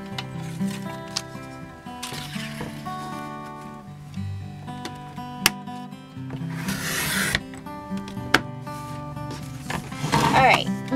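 Scissors cutting paper for a homemade Christmas card, heard as a few short rasping snips in separate bursts, close and fairly quiet against a steady background hum.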